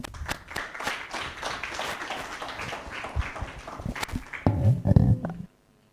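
Clapping from an audience at a university innovation week event, dense and lively throughout, ending with a burst of louder nearby sounds before cutting to silence.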